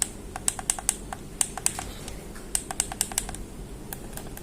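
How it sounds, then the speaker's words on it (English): Sharp plastic clicks from the L3 stick button on an original PS4 controller and then a copy, pressed in two short groups of quick taps with a pause between them, close and crisp with no talking. "when you press this L3, so this is the click sound, the original. This is the copy"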